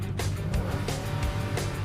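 A 200-horsepower car engine drives along on a dusty road, a rough, fluctuating rumble with pulsing surges, heard close and fairly loud.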